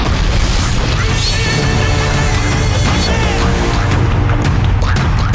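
A loud, dense blast from the teaser of the Telugu fantasy film Bimbisara, starring Nandamuri Kalyan Ram, rumbling continuously under a heavy, driving musical score with no voices.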